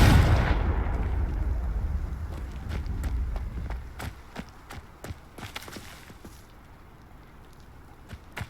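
A Confringo blasting curse from the Hogwarts Legacy video game goes off as a loud, broad burst that rumbles and fades, followed by scattered sharp crackles and impacts from the fight.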